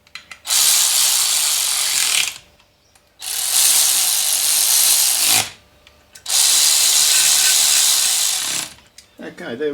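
A socket ratchet tool works on a Mk2 Ford Escort RS2000 engine, running in three long, loud, close bursts with short pauses between them.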